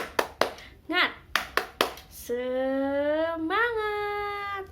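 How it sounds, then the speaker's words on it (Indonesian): Children in a classroom perform a rhythmic spirit clap, a patterned run of sharp claps broken by short chanted calls, then a long sustained sung or chanted shout from the group. "Siap, tepuk semangat."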